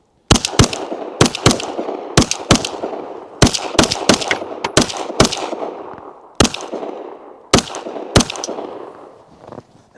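Suppressed SAR9 pistol firing 124 grain rounds, about a dozen sharp shots spaced in pairs and singles across the span, each a loud crack with a ringing tail, close by with no talk.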